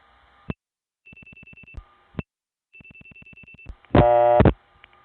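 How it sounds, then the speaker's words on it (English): A Stromberg-Carlson type PBX telephone ring on a 1976-77 long-distance call: short clicks, then two rhythmic buzzing ring bursts, followed by a louder, dense tonal burst near the end. "the call ends up on a PBX that has a Stromberg-Carlson type ring"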